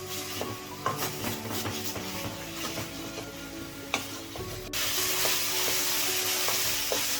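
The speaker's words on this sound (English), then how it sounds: "I've been frying the onion, ginger, garlic, green chili for almost 8 minutes on high flame and continuously stirring" Onion, ginger, garlic and green chili sizzle on high flame in a kadai, with a spoon scraping and stirring in irregular strokes and a few clinks before the frying hiss swells louder.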